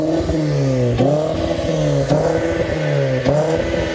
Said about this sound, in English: Luckily it's not super loud. He actually has mufflers, you can tell.